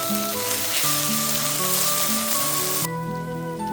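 Onions, green chillies and ginger garlic paste fry in a pan for Andhra-style gongura prawns, a steady loud sizzle with background music over it that drops away near the end.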